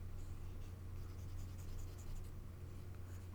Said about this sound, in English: this paper just, it lets the pencil just glide right onto it